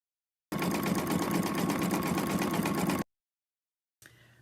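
An embroidery sewing machine stitches inside a hoop in one steady, loud, continuous run of rapid needle strokes that stops abruptly, followed by a short faint rustle.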